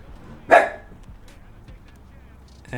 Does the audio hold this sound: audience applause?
no